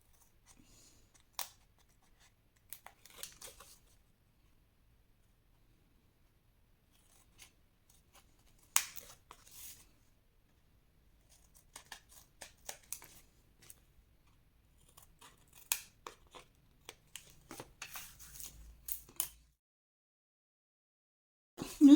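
Scissors snip through cardboard for a scrapbook album in sparse bursts of crisp cuts separated by quiet gaps, close and clear with no talk.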